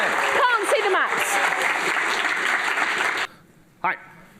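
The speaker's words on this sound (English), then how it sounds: "Go on, clap" Audience clapping at a lightning talks session, a dense burst of applause with voices talking over it that stops abruptly, followed by a short voice.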